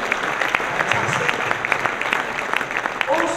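A crowd at a lighting industry awards event gives brief, moderately loud applause with scattered distinct claps.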